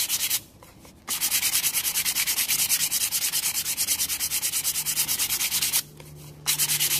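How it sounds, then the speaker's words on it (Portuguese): Sandpaper, 180 or 220 grit, rubbing steadily across the sides of an MDF box coated with acrylic base, a loud, close, continuous scratchy rasp broken by two short pauses. "Vamos lixar todos os lados."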